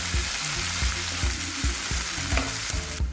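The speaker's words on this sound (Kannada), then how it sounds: "ಉಳ್ಳಾಗಡ್ಡಿ ಹಾಕೊಂಡು ಚೆಂದಾಗಿ ಹುರ್ಕೋರಿ." Onions frying in a pan for an eggplant curry, a steady close sizzle with rhythmic stirring scrapes throughout.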